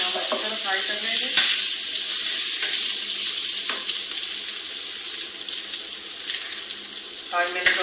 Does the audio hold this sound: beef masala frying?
yes